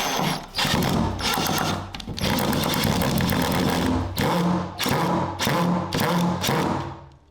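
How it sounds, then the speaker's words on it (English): Drywall screws driven into wood by a power driver, sounding as loud, close bursts of buzzing motor whir broken by short pauses, with no talk. "Instead of using drywall screws and doing this,"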